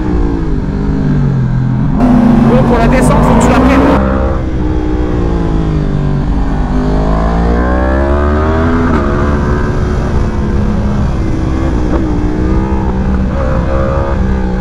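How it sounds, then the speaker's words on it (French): A Yamaha R1 sport motorcycle on a road revs loud and close, its pitch climbing and falling between revs. Someone speaks briefly over the engine. "J'entends le son de ta moto en triple, c'est horrible. C'est insolent le bruit"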